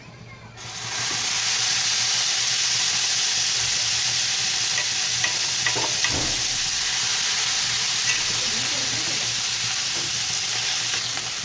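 Beef stirred and roasted in a little oil in a pan for a parda pulao, a loud continuous sizzle and hiss with occasional scraping of the spoon, close up and steady throughout.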